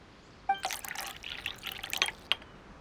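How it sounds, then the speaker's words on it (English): In the video game Genshin Impact, tea is brewed and poured as a short burst of splashing, trickling liquid with a few drip-like plinks, close and clear, lasting about two seconds after a brief quiet start. "Perhaps I should try my hand at making us a pot of tea."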